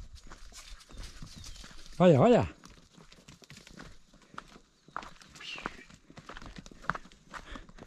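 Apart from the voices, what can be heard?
donkey running, hoofbeats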